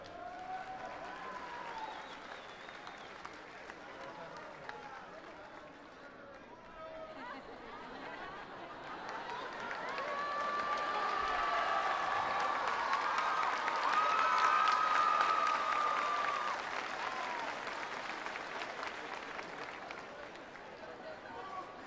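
Audience applause at a government welfare program card-distribution event in San Luis Potosí, Mexico: sustained crowd clapping with some chatter, building to a fuller, louder swell midway and then easing off slightly.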